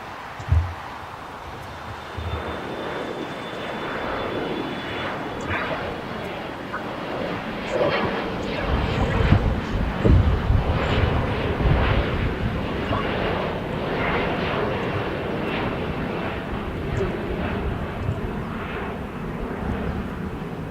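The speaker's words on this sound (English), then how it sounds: "And this is our Boeing 737-832. Once again, this is Delta Airlines 1779." A Delta Airlines Boeing 737-832 jet at LAX roars at a distance, its engine noise swelling midway and then holding steady, with faint background sounds and a brief thump near the start.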